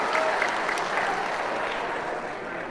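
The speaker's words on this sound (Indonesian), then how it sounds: "Tepuk tangan semuanya" Audience applause at an Indonesian political speech, a steady wash of many hands clapping at moderate volume, sustained evenly for a few seconds with no talk over it.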